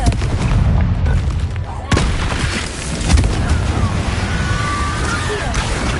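Confringo blasting spell explosions in Hogwarts Legacy, a sharp burst near the two-second mark and another around three seconds over a busy game soundscape, with a voice speaking.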